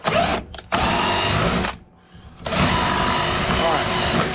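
A power drill boring an axle hole through the soft plastic hull of a Lifetime Yukon fishing kayak, whining loudly and close in long runs, briefly stopping twice before spinning up again.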